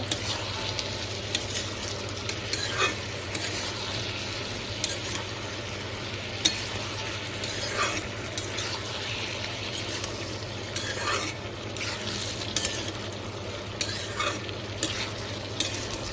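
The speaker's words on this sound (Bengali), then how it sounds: "ভালো করে নাড়াচাড়া করে নিব" Food with salt and turmeric frying in a pan while being stirred, a steady sizzle broken by repeated spoon scrapes and clinks against the pan.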